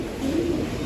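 A pigeon in a loft gives a short low coo, soft and close against faint background hum.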